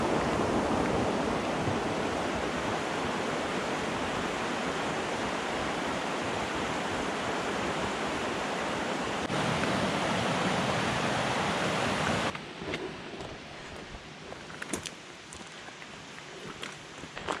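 A mountain river rushes beside a hiking trail on Germany's Zugspitze, a loud, continuous roar of flowing water heard close up that drops away abruptly near the end, leaving quieter ambient sound with a few faint knocks.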